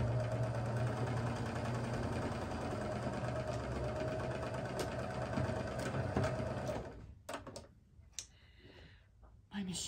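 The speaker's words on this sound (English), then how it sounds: "I'm just gonna sew down this seam so you guys can see it" A home sewing machine stitches a seam on a quilt block, its steady motorized whir running continuously for several seconds before stopping, followed by a few clicks and handling noises.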